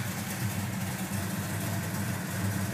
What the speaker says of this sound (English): She idles nice for a big old stroker.